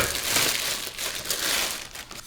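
Cardboard packaging from a Ninja Crispi portable air fryer is crumpled and crushed by hand, a close, continuous crinkling rustle in uneven waves with no talking.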